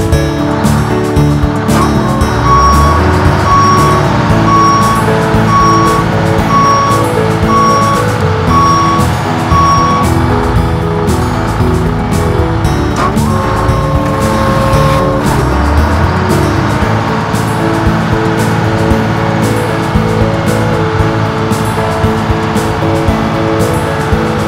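At a ski resort, a snow groomer's engine runs in a steady, loud rumble while a reversing alarm beeps in a regular series over it, fading out partway through.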